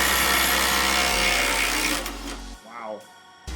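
A Ryobi impact wrench breaking loose a tightened bolt gives a loud, close burst of rapid hammering whir that cuts off abruptly, followed by a voice speaking, then a brief final knock.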